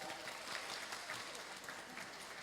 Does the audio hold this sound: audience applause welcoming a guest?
yes